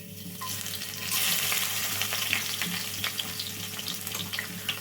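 Crushed garlic and cumin frying in hot oil, a loud continuous sizzle that swells after the first second, with light stirring scrapes underneath and no talking.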